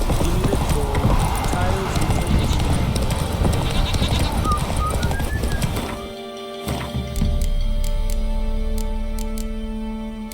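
Horse hooves galloping in The Witcher 3 video game, a rapid, loud clip-clop rhythm close by with some game ambience, slowing near the end while someone speaks.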